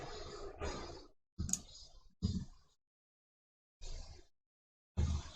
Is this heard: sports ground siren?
no